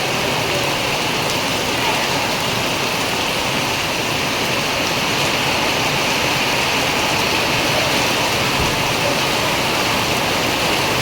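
Heavy monsoon downpour in Bhabhar, a loud, steady roar of rain pattering on surfaces, close by and unbroken throughout with no talk.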